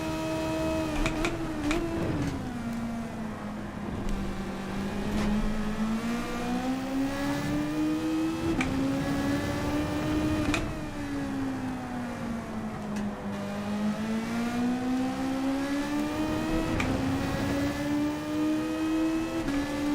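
A Group 3 race car engine in Gran Turismo 7, on the Nurburgring GP course, drones loudly and steadily, its pitch rising and falling repeatedly as it revs up and eases off through corners.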